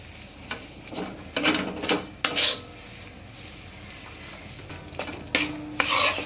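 Gram flour roasts in ghee in a pan while a spoon stirs and scrapes it in repeated bursts over a low steady sizzle, close up, with no voices.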